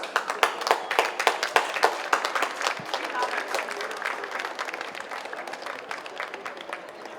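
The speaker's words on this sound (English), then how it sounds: "Another round of applause for Team Frost and Frost." A crowd at a polo club applauds a team after a match, starting with sharp, distinct claps that thin out into lighter scattered clapping, with some voices audible among the spectators.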